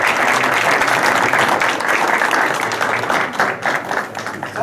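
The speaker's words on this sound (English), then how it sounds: "Everyone applauds." A room full of people at a Belmar council meeting breaks into sustained applause, dense overlapping clapping that holds steady and then starts to thin out toward the end.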